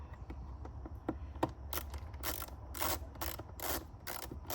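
A screwdriver backs out small Phillips screws on a Lexus IS 250 mass airflow sensor housing, making faint ratcheting clicks followed by a run of sharp, rapid ticking bursts close to the microphone, with no talk.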